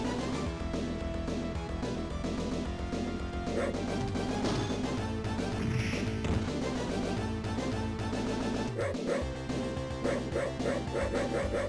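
A dog barks and yelps amid the constant music and clashing fight effects of the arcade beat-'em-up Crime Fighters, a game dog hit by a flying kick, with its cries set among dense, loud game audio.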